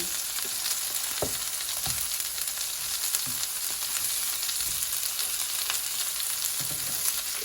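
Hamburger patties for Salisbury steak sizzle steadily in a pan, a continuous bright crackle with occasional soft pops and faint utensil taps, close and moderately loud with no talking.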